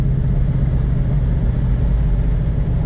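A 1969 Ford Mustang engine pulls steadily in fourth gear, a loud, continuous low rumble that holds even throughout with no distinct revving peaks.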